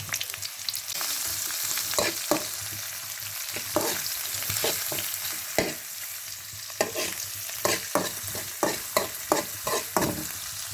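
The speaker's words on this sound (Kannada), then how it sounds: "ಈರುಳ್ಳಿ ಅಂದರೆ ಚೆನ್ನಾಗಿ ಕೆಂಪು ಬರುವವರೆಗೂ ಹುರಿಬೇಕು ಆಗ ಒಗ್ಗರಣೆ ಪರಿಮಳ ಆಗಿರ್ತದೆ" Onions frying in a pan until reddish, as a tempering for ridge gourd raita, sizzle steadily while a spatula scrapes in rhythmic bursts, quickening toward the end, with no voices.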